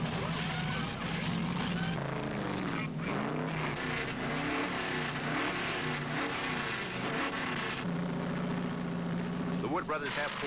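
Roaring 1972 Winston Cup stock car engines at a California race, one car accelerating away from a pit stop down pit road amid continuous loud track noise and an announcer's voice talking throughout.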